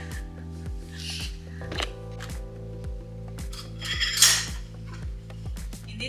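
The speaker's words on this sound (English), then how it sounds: "Let's do some dishes." Dishes are washed by hand in a home kitchen, with cutlery and plates clinking and clattering in irregular bursts over a steady low hum, close by, with no talking.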